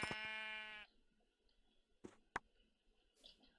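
A Minecraft sheep from the ATM 8 modpack gives one short, clear bleat, followed by a few faint game clicks and taps in near silence.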